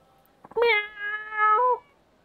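A single drawn-out meow from an Iriomote wildcat in the video game Yakuza, loud and close, rising then holding before a brief upward lilt at the end, in a quiet background.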